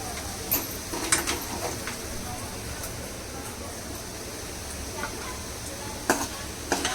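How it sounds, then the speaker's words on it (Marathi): Potatoes fry in a pan with a steady, moderate sizzle and scattered light ticks and scrapes, while a person speaks over the cooking. "झाले आपले बटाटे फ्राय बघा लालसर झाले चांगले"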